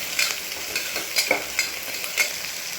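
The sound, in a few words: capsicum biryani ingredients frying in oil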